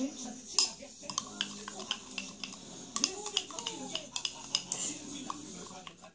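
A spoon or fork stirs and scrapes homemade slime after salt is added, producing quiet, close, irregular clinks and taps against a bowl while a voice talks intermittently.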